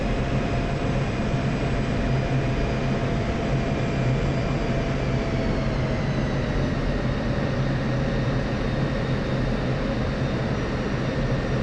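Steady jet engine roar of an F-16C in the DCS World flight game, a continuous broadband rumble with faint drifting whine tones, unbroken and with no talk.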